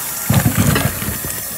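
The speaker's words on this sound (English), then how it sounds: "I'm gonna take them out here in a moment and drain them." Boiled potatoes being drained into a kitchen sink, water pouring in a short close burst of gushing and splashing that tapers off after about a second.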